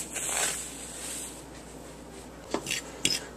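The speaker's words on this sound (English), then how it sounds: "I'm just gonna mix it all together here." Fish fry ingredients are mixed together in a bowl, giving a soft scraping stir followed by a few sharp clinks of utensil against the bowl, close and fairly quiet with no talk.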